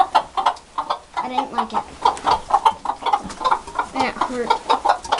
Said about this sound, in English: I don't like when chickens like fly and freak out